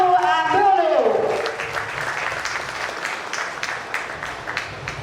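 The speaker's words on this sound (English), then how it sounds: "put your hands together with a huge round of applause" An audience at an India-Africa business conference welcoming a speaker with applause, a crowd clapping steadily at moderate volume after the tail of an announcer's voice.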